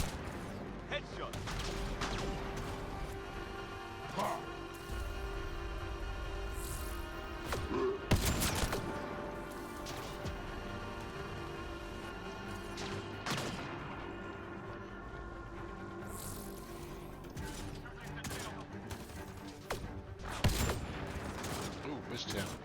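Repeated gunfire in a shooter video game with sniper shots, bursts and thuds scattered over a continuous game soundscape, while a player talks over it.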